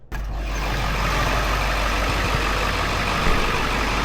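A box truck's engine idles steadily at close range, a continuous low rumble after a brief start, with no talking over it.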